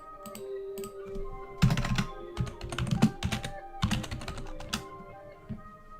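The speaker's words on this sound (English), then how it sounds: "Let's try typing." Someone types on a computer keyboard close by, with short bursts of rapid key clicks broken by brief pauses.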